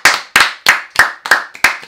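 Six loud hand claps follow one another at a steady brisk pace, close up, each a crisp slap with a short ring.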